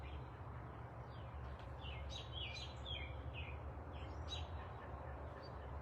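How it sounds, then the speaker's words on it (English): Birds chirp outdoors in the evening, a cluster of quick, high tweets and short trills repeating faintly at a distance over a steady low background hum. "Oh, the birds are just like, they are having a great time tonight."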